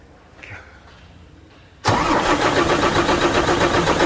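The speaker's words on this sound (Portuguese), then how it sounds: "Vamos dar partida no caminhão." An MAN TGX truck's diesel engine cranks and fires abruptly after a quiet moment, then settles into a loud, steady close-up idle with a dense rumble; no talking.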